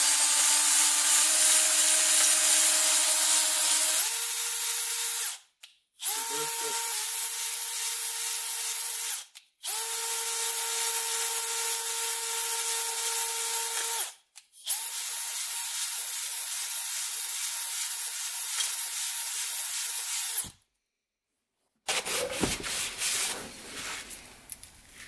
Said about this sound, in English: we're just gonna hone out the cylinder here quick. Got my little hone.